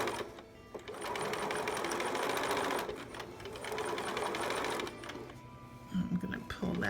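A sewing machine stitches a small preemie shirt along a traced line, its steady mechanical whir running close and loud with a couple of brief pauses in the stitching.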